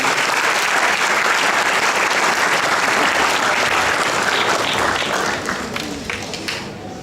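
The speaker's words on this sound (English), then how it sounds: "Everybody, a round of applause to Mr." At a school drama awards ceremony, an audience gives a round of applause for an award presenter: a loud, continuous wash of clapping that thins slightly toward the end.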